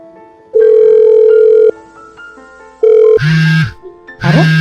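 A phone call rings out: a long electronic ring tone sounds twice with gaps, then louder buzzing tones near the end, alone without talk.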